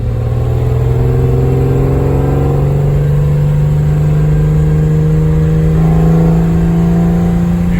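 A BMW E30 fitted with an M3 engine and a DCT gearbox drones steadily and loudly from close by, its engine note climbing slowly with slight dips that may mark gear shifts; no one speaks.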